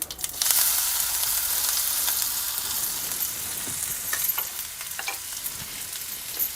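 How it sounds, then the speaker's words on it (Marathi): Curry leaves and spice masala sizzle in a frying pan while stuffed tomatoes are made: a steady, bright crackling hiss throughout, with a few louder spits and pops near the middle and a faint stir now and then. "आणि ह्यामध्ये आपण घालूया कढीपत्ता जिरंसुद्धा ना चांगलंसं फुललेलं आहे"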